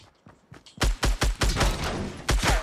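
Bursts of video-game gunfire: a few faint shots, then a loud rapid volley of about eight sharp reports in quick, uneven succession, with no talk.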